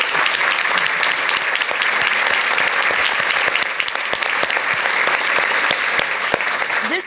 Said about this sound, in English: they need a much more rousing round of applause